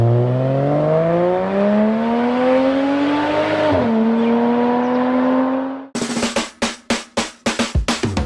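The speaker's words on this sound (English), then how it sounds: "with the right exhaust mods, it can sound very much like the flat 6 found in a Porsche 911" A modified-exhaust Subaru Liberty/Legacy Spec B wagon engine revs up in a rising, smooth flat-four drone, dips briefly, climbs again, then gives way to a series of sharp choppy bursts, loud and close.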